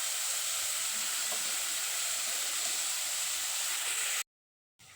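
Tempering of onion and green chilli frying in a pan, a constant close hissing sizzle that cuts off abruptly before the end, followed by a brief pause and a quieter return, with no speech.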